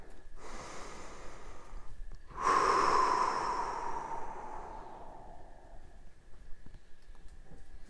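One deep breath, a long drawn inhale and then a slow, audible exhale that fades away, close and clear with no talking.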